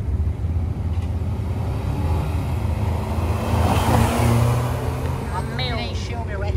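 Subaru car accelerating hard on a São Paulo street, its engine revving loud and steady with turbo spooling through the whole stretch, voices talking over the engine noise.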